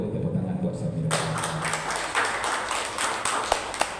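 Applause breaks out from an audience for Samira Travel at a Hajj and Umrah gathering, a dense patter of many hands starting abruptly after a brief talking voice and continuing steadily with a few sharper claps near the end.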